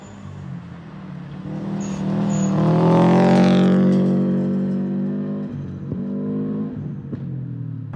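A Subaru STI driving off-road on rough roads in Pine Top, Arizona builds to a loud, rising engine roar that peaks midway and then eases. Gear changes break the note, and a few knocks and rattles come from the car bouncing over the ground.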